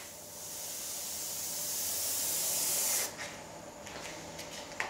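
A spray can lays down a base coat of paint on a wooden guitar body as a steady close hiss lasting about three seconds, then several short, fainter spray bursts.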